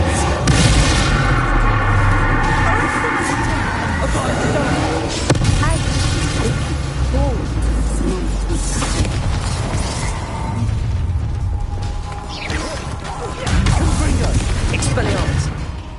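Bombarda blasting spell explosions in Hogwarts Legacy, heavy booming blasts mixed with spell effects, loud and close, with voices shouting spell names over the fighting.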